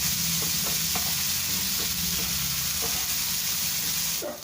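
Two large onions shallow fry in a pan, a soft continuous sizzle broken by brief scraping stirs, heard close and alone.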